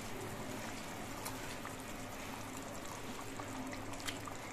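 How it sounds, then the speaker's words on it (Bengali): Katla fish kalia gravy simmers as fried fish pieces go in, giving a steady, moderate bubbling hiss with a few faint clicks and no speech. "ঝোলটা একটু ফুটে ওঠার পর এর মধ্যে ভাজা মাছগুলো দিয়ে দিচ্ছি"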